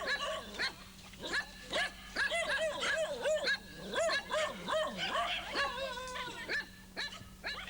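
Several village dogs bark and yip in bursts at close to mid distance, the barks overlapping irregularly with a few whimpering, higher yelps mixed in throughout.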